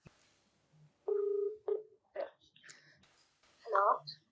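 Several phone keypad tones beep one after another, with short gaps between them, followed by a faint warbling ring in a quiet room.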